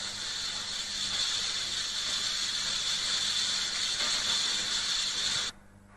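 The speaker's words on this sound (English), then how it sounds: "the two washers out walk to the front of the engine and start to wash out the smoke box end of the boiler" Steady loud hiss of a water jet nozzle washing scale out of the smoke box end of a steam locomotive boiler, a continuous rushing spray that cuts off abruptly near the end.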